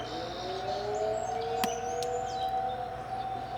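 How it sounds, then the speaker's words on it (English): Tornado sirens in Elizabethtown, Kentucky, drone steadily at a distance, a sustained wailing tone, with a few bird chirps scattered over it. "all the tornado sirens going off"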